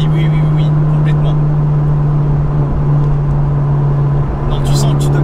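Honda Civic Type R FK2 engine while driving, a steady low droning hum from inside the cabin with road noise, with people talking over it.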